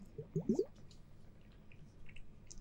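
Ice globes move in water, giving a brief cluster of wet squishes and drips near the start, then a few faint scattered drips and plops in a quiet room.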